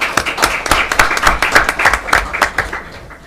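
A small audience at a borough council meeting claps for award recipients. A few seconds of quick, close, scattered clapping start strongly and then fade.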